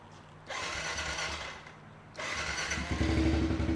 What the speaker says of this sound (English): So the bike's running, the spark plug is doing its job.